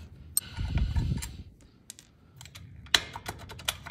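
A quarter-inch socket ratchet loosens the shifter bolt on a 2016 Harley-Davidson Street Glide, making quiet, close clicking in short irregular bursts over a soft low rumble.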